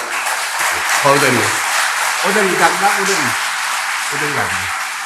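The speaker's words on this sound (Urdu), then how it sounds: "میں تمام گزارش کروں گا کہ بھرپور تالیوں میں" Audience clapping at a scholarship award ceremony, a steady wash of applause running throughout beneath a man's amplified speech.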